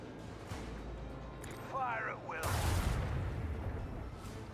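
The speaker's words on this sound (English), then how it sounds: "Torpedoes." Torpedoes fire and detonate in the Rogue Trader video game: a rising whoosh of launches, then a loud broad blast that rumbles on under a steady low drone.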